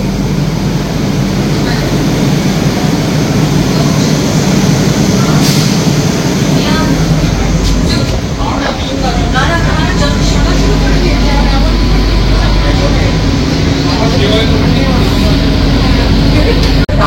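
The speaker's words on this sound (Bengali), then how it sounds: "আমাদের ট্রেন কিন্তু আবার ছাড়লো।" An AC local train on the Sealdah–Ranaghat line pulls away again after a halt, giving a steady loud rumble and rolling clatter of wheels on rails with some voices in the background.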